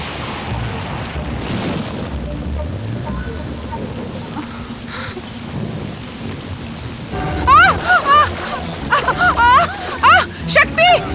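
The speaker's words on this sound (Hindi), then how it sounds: "बारिश भी अभी आई।" Rain and rumbling thunder in a steady, noisy outdoor downpour, with people talking and calling out over it toward the end.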